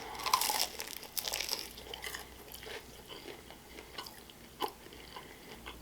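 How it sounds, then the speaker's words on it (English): Crunching while eating curry chicken, close and faint: irregular crisp bites and chewing crackles, with a few sharper crunches scattered through the quiet. "You hear that crunch?"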